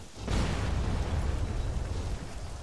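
A mortar round detonates in the military shooter Arma 3, a sudden loud blast that swells into a sustained, rumbling roar and lingers without fading for several seconds, with no talk over it.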